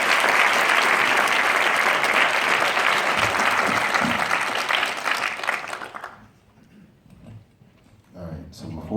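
Loud, dense audience applause greets performers walking onto the stage for a human beatbox and DJ set, holding steadily before fading out into near silence, with a few faint sounds afterward.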